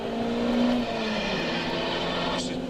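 Race cars powering out of an infield hairpin during a one-hour 2K Cup MADCAS final, a steady engine drone with a sustained tone that shifts pitch partway through, loud and continuous with no talk.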